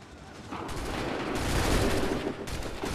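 Rapid crackling gunfire from massed muskets in the video game Assassin's Creed III, a dense volley sustained for a few seconds, loud and close with no talking.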